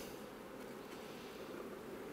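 Honey bees at the hive make a steady, soft, continuous buzzing hum with no other sounds.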